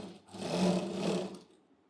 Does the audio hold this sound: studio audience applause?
no